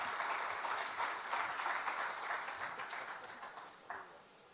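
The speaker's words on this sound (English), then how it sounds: "Can we do a louder round of applause?" Applause from the audience at a formal event in Ghana launching a national credit scoring system, a steady wash of many hands that fades and thins toward the end, heard at moderate distance with no speech over it.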